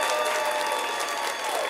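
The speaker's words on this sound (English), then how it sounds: "Let's give Tommy a big round of applause." Dense, steady applause from an audience at a winter sports awards show, a continuous wash of clapping with a little crowd noise, close and fairly loud throughout.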